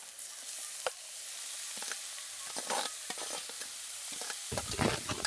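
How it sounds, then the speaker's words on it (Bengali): Grated cauliflower frying with onion, ginger and green chilli, a faint sizzle under a few scattered scrapes of a spatula, with a louder stirring burst near the end. "একসঙ্গে নাড়াচাড়া করে এই ফুলকপিটাকে কিন্তু ভালো করে ভেজে নিতে হবে"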